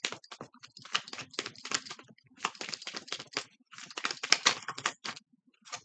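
Tarot cards shuffled by hand, heard up close as repeated bursts of dense crisp clicking and riffling with short pauses between rounds, with no talking.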